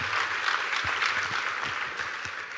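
Applause from a seminar audience at the Rendezvous fest at IIT Delhi, a steady broadband patter of many hands clapping throughout, with no talk over it.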